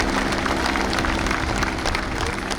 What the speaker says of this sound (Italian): risalutiamo con un applauso